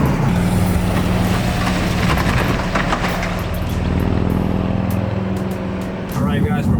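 A 2019-or-newer Mercedes Sprinter van fitted with a 2.65-inch pre-runner suspension cruises along the highway, giving a steady, loud engine and road drone from inside the cabin.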